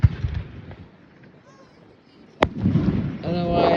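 Fireworks burst at a school senior sendoff, with a sharp crack followed by a crackling rumble of explosions, heard close amid crowd noise and voices.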